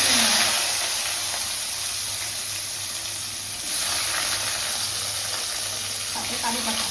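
Tomatoes go into hot tempering oil with black mustard seeds and dried chilli for a pigeon-pea dal, giving a loud, steady broadband sizzle and hiss that swells again midway, with no clear speech.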